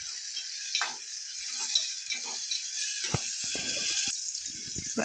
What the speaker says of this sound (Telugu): టమాటా ముక్కలు ఒక 2 నిమిషాలు మగ్గించుకోవాలి.